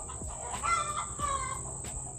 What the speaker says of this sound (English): Every morning they cackle.